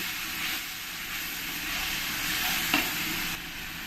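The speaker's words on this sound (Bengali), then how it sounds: "জল দিয়ে আমি ভালো করে দু এক মিনিট ধরে এরকম করে কষিয়ে নেব" Masala for palak paneer sautéing in a pan with a splash of water, a continuous close hiss of steam and sizzle with faint stirring, no voices.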